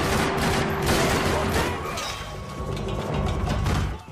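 Gunfire in the video game Max Payne: a dense, continuous stretch of rapid shots and mechanical clatter that stays loud for several seconds before dropping away at the end.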